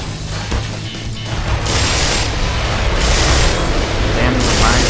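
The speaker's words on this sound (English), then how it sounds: "As the music kicked off, the roof collapsed." Heavy crashing rumble of a roof caving in inside the Black Mesa game, a loud sustained low roar with debris noise rising after a quieter start, with music and other game sounds mixed in.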